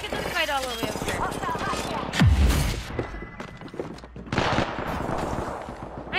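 Gunfire in the battle-royale video game PUBG, dense bursts of in-game shots with a heavy thud partway through, sounding continuously under a man's speech.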